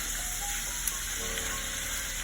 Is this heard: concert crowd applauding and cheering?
no